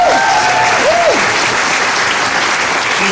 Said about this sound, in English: Let's give Radhika a big round of applause.